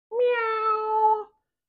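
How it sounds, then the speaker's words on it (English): A single cat meow, one sustained tonal call of just over a second with rich harmonics, clear and close with no other sounds. "Meow."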